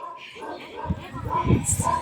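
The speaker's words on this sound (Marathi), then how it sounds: "कुत्रा भुकायला लागला" A dog on a road during a family tour in Rajasthan gives several short yips and barks, some whimpering, mixed in with people talking nearby.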